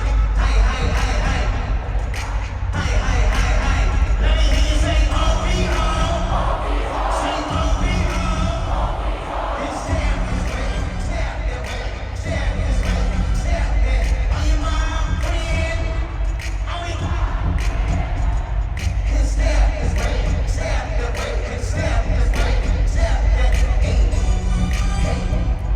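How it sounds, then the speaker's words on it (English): A Toronto concert crowd singing along in a huge, dense wash of voices and cheering, loud and sustained across the whole stretch, with occasional yells rising out of the roar. "the instrumentation cuts out just so that the crowd, you can hear them singing along"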